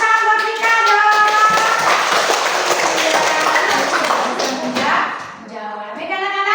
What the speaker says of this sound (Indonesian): Tepuk tangan buat Vika dong.